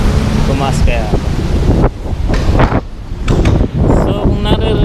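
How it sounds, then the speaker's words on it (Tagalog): Gusty wind buffets the microphone in loud, uneven bursts with brief lulls, sounding close and rough throughout. "kung naririnig ninyo yung hangin habang naglalakad ako"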